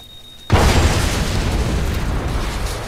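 Bomb going off in the stealth game Hitman: Absolution, a sudden loud deep blast after a brief quiet moment, followed by a long rumbling decay.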